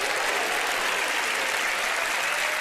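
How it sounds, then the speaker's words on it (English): A magic show audience at Penn & Teller: Fool Us breaks into dense, steady applause that holds loud and even throughout, with no voices standing out. "Here's a round of applause."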